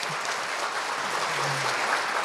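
Audience applause for the director at a security leadership program launch ceremony, a steady dense clapping from a crowd filling the short stretch at even loudness, with a faint voice underneath.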